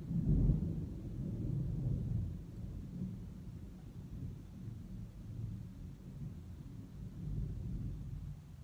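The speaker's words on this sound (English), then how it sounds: "It's a thunderstorm going on." A thunderstorm with rolling thunder and steady rain, heard as a low continuous rumble that swells loudest at the start and again near the end, with no voices over it.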